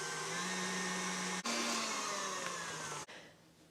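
Electric mixer whipping ingredients with salt and cream of tartar for a gingerbread treat; a steady close motor whine that shifts pitch as the speed changes, with two brief cutouts before it winds down.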